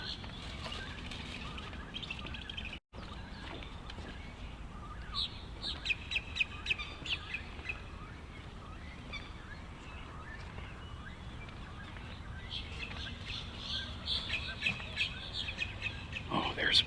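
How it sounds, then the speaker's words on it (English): Birds calling at the Green Cay nature preserve, with scattered chirps and calls over outdoor background noise and bursts of activity near the middle and end, alongside occasional voices. "Big birds."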